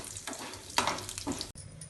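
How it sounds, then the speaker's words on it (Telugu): Chana dal, urad dal, mustard seeds and curry leaves crackle and sizzle in hot ghee, with a few bright spatters and stirring scrapes over a steady frying hiss across a couple of seconds. "1 స్పూను శనగపప్పు, 1 స్పూన్ మినపప్పు, 1 స్పూన్ ఆవాలు, కొంచెం కరివేపాకు వేస్తున్నాను"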